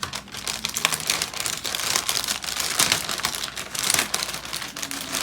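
Scissors cut open a plastic-lined Cap'n Crunch cereal bag up close, making continuous crinkling and crackling rustles for several seconds with no talk.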